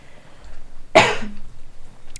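One short, sharp cough rings out close by against a quiet background.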